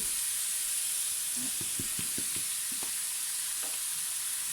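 Seasoned ground beef filling for a croque cooks in a pan over medium heat, a steady bright sizzle and hiss throughout, with a few soft stirring knocks near the middle.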